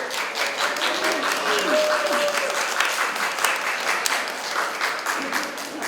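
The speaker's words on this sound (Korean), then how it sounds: "지금부터 열대 문화 토크 콘서트 제1회 시작하도록 하겠습니다. 박수로." An audience bursts into sustained applause to open the first Brazilian tropical culture talk concert, many hands clapping loudly and continuously with a faint voice and crowd murmur underneath.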